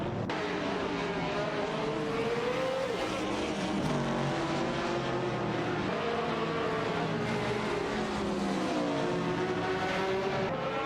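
Race car engines in a simulated AI racing game, a BRM and a Chevrolet among the field, roaring continuously with shifting, rising and falling engine pitches as cars accelerate and hold speed, loud and unbroken.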